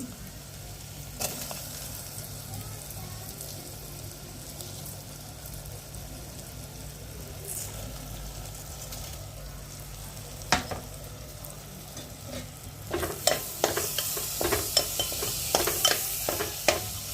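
Rice goes into a pan of frying sambar masala and is stirred, giving a steady low sizzle with scraping spoon strokes that grow busier and louder toward the end, with no talking.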